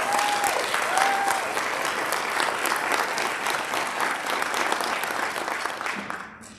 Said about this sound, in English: Let's give all of our sponsors one last AISES round of applause.